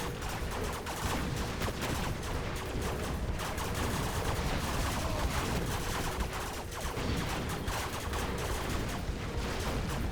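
Battle sounds from C&C Generals Zero Hour: dense, continuous gunfire and explosive bursts, with rockets from rocket buggies and Avengers, crackling steadily at moderate level throughout.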